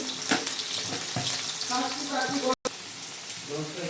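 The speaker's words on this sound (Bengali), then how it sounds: "আমার তেল গরম হয়ে গেছে, আলুটা ছেড়ে দিচ্ছি। আলুটা প্রথমে ভেজে নিচ্ছি।" Potatoes frying in hot oil, a steady close hiss and crackle running throughout, with someone talking over it.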